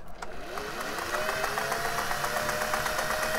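A Singer 401A sewing machine stitching a dense decorative pattern at a very fine stitch length, running as a steady, even mechanical whir with no pauses from start to finish.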